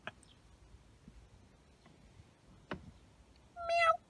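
A single clear cat meow rises near the end after a stretch of quiet room noise with a couple of faint clicks.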